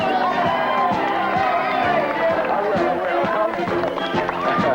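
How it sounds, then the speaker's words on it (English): Large outdoor crowd cheering and roaring continuously, a loud dense mass of voices with scattered whoops and rhythmic clatter underneath, sustained throughout without a break. "Look at the size of that crowd."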